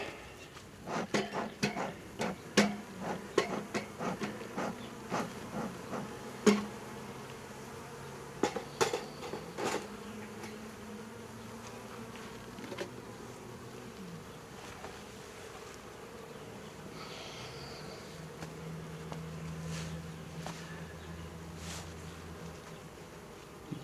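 Honeybees buzz steadily close by at a hive during an inspection with smoke, drinking syrup, with sharp clicks and taps clustered early, then a softer ongoing hum with a low droning tone later.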